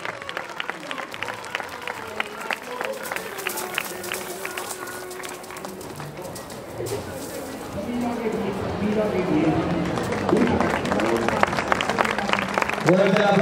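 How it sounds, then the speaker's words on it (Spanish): Audience applause at an outdoor horse exhibition in a castle moat during a town fair, steady clapping that swells louder toward the end, with an announcer's voice over it. "Vamos a dar un fuerte aplauso, que es un ejercicio francamente difícil."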